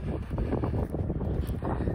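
Steady breeze blowing outdoors on a mild day buffets the microphone, a continuous low rumbling roar with gusty swells and no clear breaks for the full two seconds.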